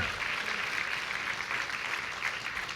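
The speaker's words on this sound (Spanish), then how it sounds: "Díganlo con un aplauso." A church congregation breaks into applause during a sermon, dense continuous clapping from many people filling the room, loud and even for the whole stretch.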